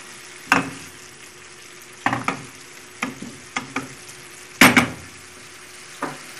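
Onions caramelize in a frying pan with water and egg, a quiet sizzle under about half a dozen distinct scraping and tapping stir strokes against the pan, heard close with no speech.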